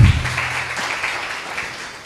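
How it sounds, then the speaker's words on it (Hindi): Applause from a church congregation during a pastor's sermon on the Bible: a loud burst of clapping at the start that drops to a steadier, softer patter and carries on for about two seconds. "यहाँ ताली नहीं चाहिए था,"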